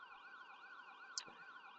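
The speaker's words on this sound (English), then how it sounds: "I can indeed hear the ambulance still." An ambulance siren wails at a speedway, its rising and falling tones sweeping steadily and faintly from a distance throughout, with a single brief knock partway through.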